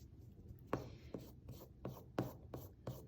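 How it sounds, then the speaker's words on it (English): An eraser rubs lightly across a graphite pencil drawing in six short, soft scrubbing strokes at an even rhythm, close and quiet with no speech. "So I'm just lightly rubbing my eraser along the whole thing."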